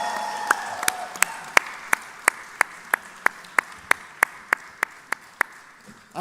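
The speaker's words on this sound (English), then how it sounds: "So big round of applause and big congratulations." An audience at a fan meetup and motorcycle launch event claps together in a steady, even rhythm, each sharp clap clearly separated. Faint tonal sounds sit under the start, and the clapping carries on evenly throughout.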